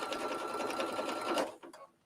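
A sewing machine stitches an invisible zipper in a fast, even run of needle strokes that stops abruptly, followed by a couple of soft clicks and handling sounds.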